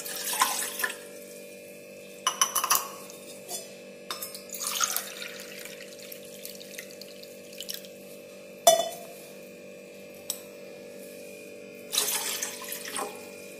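Water poured into a tumbler, several splashy bursts of pouring separated by pauses, with clinks of glass and a steady low hum behind, no talk.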